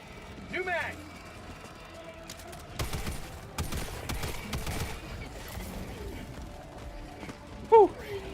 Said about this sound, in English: New mag.